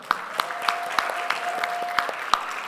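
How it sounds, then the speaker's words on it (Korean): A small church congregation at a Sunday service gives brief, moderate applause, steady claps with a few sharper peaks, while a voice talks faintly underneath. "자, 박수"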